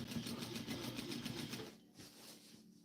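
A sewing machine backstitching a seam on a Vogue 1737 garment, a quiet rapid mechanical whir of needle strokes that runs for a moment, then stops and gives way to faint handling sounds.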